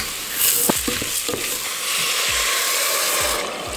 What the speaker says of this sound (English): And sauté all the vegetables.